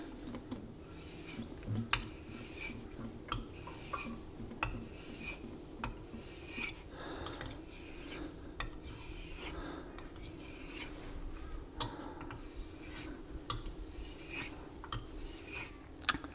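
A knife is stroked back and forth over a Naniwa Chosera 5000 grit whetstone, giving a faint, steady rasping scrape with soft repeated rubbing passes and occasional small clicks, no talking.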